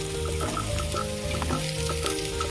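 Cauliflower florets hit a pan of hot oil with raisins that were fried first, giving a steady, close sizzle and bubbling hiss with faint stirring and scraping throughout, no voices.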